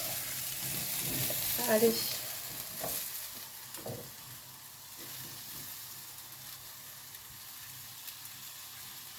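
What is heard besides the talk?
apples caramelizing with sugar in a frying pan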